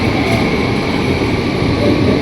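A train at a station platform in the Netherlands, a loud continuous rumble and roar of the engine and carriages with a steady high whine on top, close by and unbroken, no voices.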